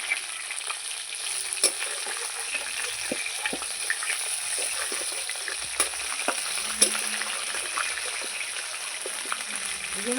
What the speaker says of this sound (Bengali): মাছগুলো আমার ভাজা হয়ে গেছে লাল লাল করে ভেজে নিয়েছি